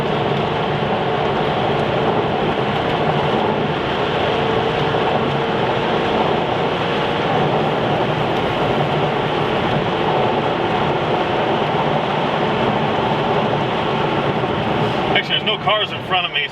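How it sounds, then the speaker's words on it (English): A Maserati Cambiocorsa Spyder drives along a winding road in automatic mode, with a loud, steady engine and road drone heard from inside the car, and a voice talks over it. "we're going to give you a test drive in this Maserati here"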